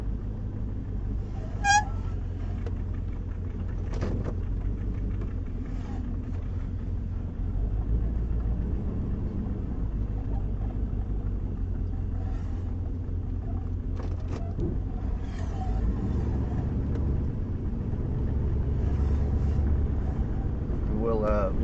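A 1968 Nomad backing up, its engine a steady low rumble with some wind buffeting, close to the microphone while people talk over it.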